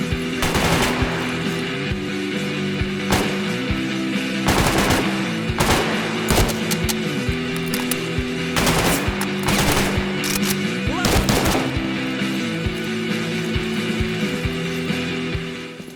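Sustained AK rifle fire in a STALKER Radiophobia firefight, loud bursts of automatic shots crackling in repeated volleys over a steady droning game soundtrack, with dense clusters of rounds near 4–6 and 9–11 seconds.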